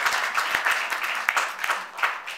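An audience at a college state-of-the-college address breaks into applause, brisk uneven clapping from a crowd with a few sharp louder claps standing out, heard for a couple of seconds without speech.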